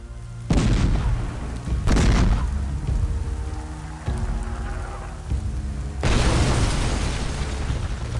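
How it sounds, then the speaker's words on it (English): Cannons bombarding the walls of a Lithuanian castle in Medieval II: Total War Kingdoms during a huge Teutonic siege, several heavy booming blasts rolling into one another with continuous battle rumble between them. "our cannons are bombarding the walls of the Lithuanian"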